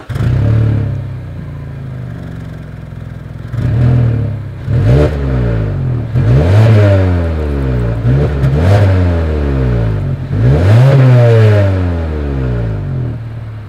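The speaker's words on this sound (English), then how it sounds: "As always, here is that exhaust clip." 2020 Mazda 3 exhaust with chrome tips revved repeatedly, several rising-and-falling blips of the engine note separated by idle, loud and close behind the car.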